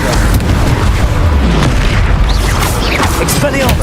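Explosion spell in Hogwarts Legacy, loud booming blasts with bursts and crackling pops over a constant rumble, with a voice talking over the clamor.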